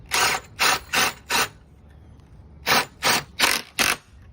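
Wing nut being hand-tightened while hooking up a generator: two sets of four quick, evenly spaced ratcheting scrapes, close and crisp, separated by a short quiet pause.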